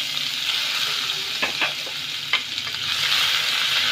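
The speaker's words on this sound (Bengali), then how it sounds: "পেঁয়াজটাকে একটু লাল লাল করে ভেজে নেব" Finely chopped onion sizzles steadily in a pan with a bright continuous frying hiss, broken by a few quick scraping stirs of a spatula partway through.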